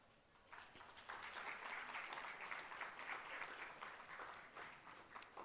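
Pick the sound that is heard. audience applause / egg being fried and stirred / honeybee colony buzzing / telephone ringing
audience applause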